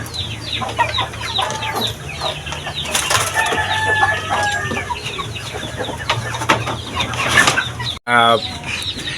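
Young three-month-old Shamo chickens cluck and call in a busy, close yard, with wing flapping and a steady hum underneath, broken by a brief dropout near the end.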